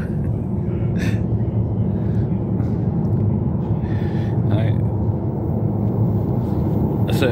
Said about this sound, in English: Here comes the happy metro.